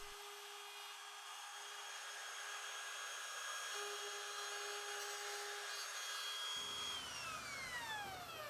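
A router fitted with a bearing-guided template bit whirs steadily as it clears waste from wood joints, a high, constant motor whine that shifts pitch as the tool winds down near the end.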